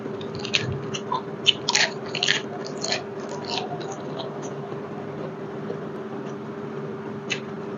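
Crisp bites and crunchy chewing of fried bell pepper eaten with pla jom chili dip, scattered close-up crunches over a quiet steady background hum, with no talking.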